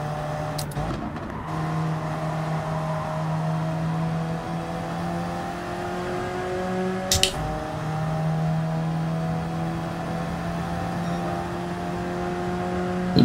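BMW race car in Gran Turismo 7, its engine droning steadily at high revs through a long stretch, with a brief sharp burst near the middle and no talk over it.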